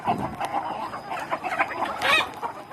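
Free-range chickens on a Thai backyard farm cluck and chatter continuously at moderate distance, with several overlapping birds and a brief louder squawk near the end.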